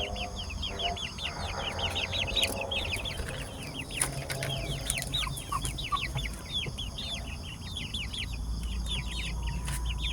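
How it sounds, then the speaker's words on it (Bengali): Native and tiger-breed hens settled in a coop at night give a dense run of high, rapid chirps and soft clucks, a steady chattering flock heard fairly close over low background hum. "রাত্রিবেলা মুরগিরা একটু সিপা সাফা জায়গায় থাকতে বেশি পছন্দ করে"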